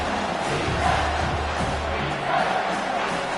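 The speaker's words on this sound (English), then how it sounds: "this crowd will blow out a vocal cord to help this defense" Stadium crowd in the Madden 25 American football video game roaring and cheering on third down to back the defense, a loud, sustained mass of voices with rising surges of yelling.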